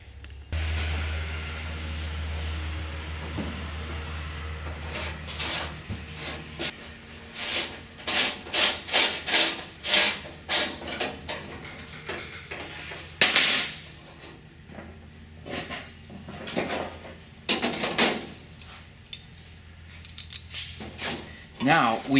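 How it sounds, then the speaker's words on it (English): Drilling the elevator hinges of a Sonex aircraft tail kit, with the elevator removed from the tail: a low steady hum at first, then a run of short, sharp, gritty bursts of varying loudness, fairly close. "I'm now going to remove the elevator and finish up drilling the hinges"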